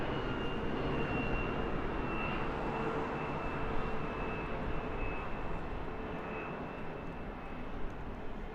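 Airliner passing over Heathrow Airport after a go-around, a steady, broad jet roar held at even loudness throughout with a faint high whine above it, no voices.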